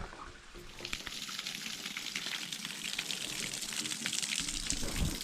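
Water runs from a pipe into a 1,000 litre tank at a tiny house build in the Philippines, a continuous hissing, splashing rush at moderate level with no speech.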